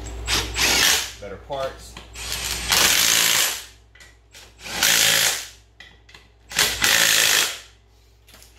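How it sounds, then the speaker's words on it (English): Ratchet wrench tightening a ball joint on an arched ATV A-arm of a 2010 Polaris Sportsman 800, several loud bursts of rapid clicking close by with pauses between, plus brief mechanical clinks and a short spoken phrase. "Just gotta tighten up this one damn ball joint."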